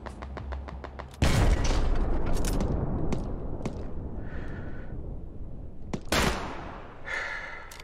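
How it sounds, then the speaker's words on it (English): Gunfire in the WWII shooter Hell Let Loose: a few faint clicks, then a loud close blast with a long rumbling roll, scattered sharp cracks, and another burst near the end against echoing battlefield ambience. "Somebody's shooting at me."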